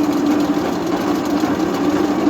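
A tractor-driven three-point wood chipper winds down with its tractor shut off, giving a steady low mechanical drone and hum that carries on evenly, close and fairly loud, with no voices.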